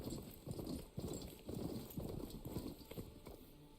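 A horse gallops in Horizon Forbidden West, its hooves clattering in a quick steady rhythmic beat, close and fairly quiet over a soft game ambience, with no talk during the run.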